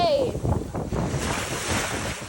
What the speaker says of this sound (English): Oh, look at these waves!